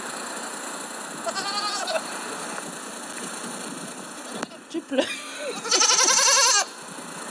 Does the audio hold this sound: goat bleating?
yes